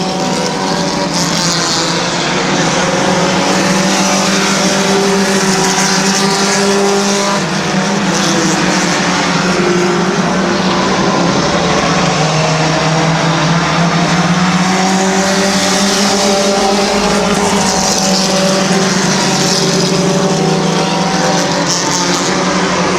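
Compact-class race cars roaring around Midvale Speedway, a dense continuous engine drone with rising and falling pitch as several cars pass, loud and steady throughout with no talk.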